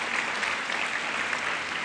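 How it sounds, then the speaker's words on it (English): Steady applause from the audience at a community foundation awards ceremony, a dense, even wash of many hands clapping at constant loudness with no pauses. "Huge round of applause to you for what you've done to make this possible."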